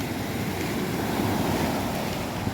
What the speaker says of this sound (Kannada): ನಾವು ಜಾಸ್ತಿ ಮುಂದೆ ಹೋಗುದು ಬೇಡ ಅದು ತುಂಬ ಉಂಟಲ್ಲ ಅಲೆ